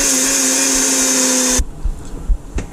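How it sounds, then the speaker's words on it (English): Golden flaxseed whirling in a blender or grinder, a loud steady high-pitched motor roar for about a second and a half that cuts off abruptly, leaving quiet clatter and handling noises in a kitchen. "you'll want to grind up your golden flaxseed"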